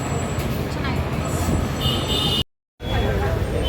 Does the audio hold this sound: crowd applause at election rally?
no